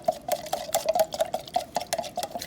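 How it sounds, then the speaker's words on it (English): A spoon stirs cornstarch into water inside a soup can, making rapid close metallic clinks and scrapes in an uneven rhythm, alone without talk. "I'm gonna add about 2 tablespoons cornstarch here, stir it around really good"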